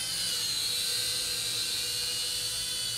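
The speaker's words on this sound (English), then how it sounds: "you literally just hit the takeoff and land button" A small National Geographic quadcopter drone spins up its rotors, a steady high-pitched whine with a constant buzzing tone, close and continuous with no talking.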